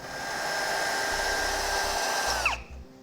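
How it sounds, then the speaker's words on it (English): A drill bit boring a pilot hole through the metal of a Blue Ox base plate kit on a 2010 Honda CR-V, a steady high whine for over two seconds that ends with a quick falling pitch as the drill stops. "I'm going to use the final size drill bit to mark the centers first and then make a pilot hole"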